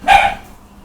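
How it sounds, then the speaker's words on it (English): A dog gives a single sharp bark indoors in a home where cold process soap is being made, loud and close, then fades quickly into quiet room tone. "That's just the dog, ignore the dog."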